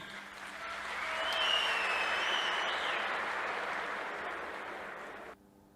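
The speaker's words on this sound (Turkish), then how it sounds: "Salonda da oldukça yoğun bir alkış koptu." Dense, sustained applause from a large crowd fills a hall after a pension rate announcement, swelling over the first second, holding steady, then cutting off sharply near the end.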